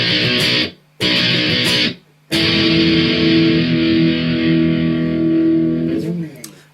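Distorted electric guitar plays the fill from a song: two short, loud, buzzy chord stabs separated by brief silences, then a sustained ringing chord that holds for several seconds and fades.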